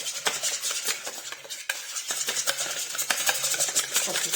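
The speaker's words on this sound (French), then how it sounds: "on va venir mélanger tout ça avec le fouet" A hand whisk beats a yogurt mixture in a bowl, making loud, close, continuous rapid swishing and clicking against the sides, with one short break partway through.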